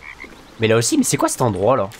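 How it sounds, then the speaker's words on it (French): A frog in Baldur's Gate 3 croaks in a few short calls at the start, then someone talks over it in French. "il y a une grenouille là-bas"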